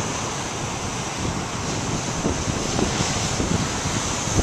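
Large waves surge and wash onto the shore under heavy wind buffeting the microphone, a constant roaring wash with a few low thumps, no voices present.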